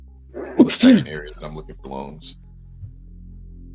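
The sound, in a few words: sneeze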